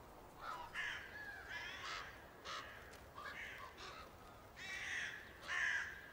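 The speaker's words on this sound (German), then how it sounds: "In diesem Herbst ist eine weiße Krähe aufgetaucht." Several crows caw repeatedly outdoors at moderate distance, harsh calls overlapping in irregular bursts over a steady background hiss, with no talking.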